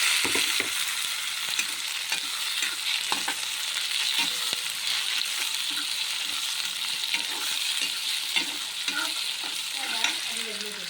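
Onion, tomato and kasuri methi fry in a pan with a steady, close hiss of sizzling oil, broken by soft scrapes and clicks of a spoon stirring throughout.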